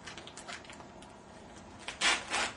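Plastic packaging of an IV infusion set being torn open and handled, a series of soft crinkles and rustles followed by a louder tearing crackle near the end, close and quiet.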